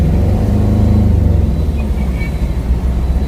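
Road traffic rumbles past in a heavy jam, with a loud, close engine drone and low idling and revving vehicle noise holding steady throughout.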